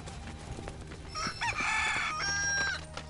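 Hens in the Final Fantasy VII Rebirth video game, soft clucks followed by a brief crow-like call and more clucking over a low game background, no talk.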